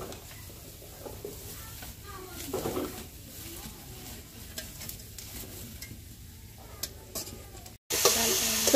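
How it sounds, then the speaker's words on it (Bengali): Hot tempering (baghar) sizzles over a pot of vegetable curry in a home kitchen, a soft steady hiss with occasional stirring scrapes, ending in a brief loud burst of crackle. "সবজিতে এখন বাগার দিয়ে নেওয়া হচ্ছে"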